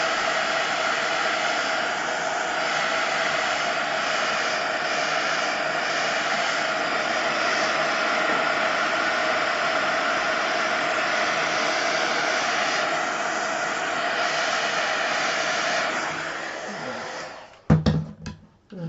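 A hair dryer blows steadily on wet craft ink for about seventeen seconds, a loud, even whooshing roar that cuts off near the end, followed by a few brief clicks and handling knocks.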